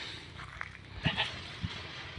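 A goat bleats a few times against a steady outdoor hiss, short calls rising briefly above the background.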